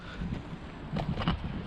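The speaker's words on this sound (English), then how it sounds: "it's a little bit windy just now" Wind gusts outdoors, buffeting a microphone in brief, faint rumbling bursts.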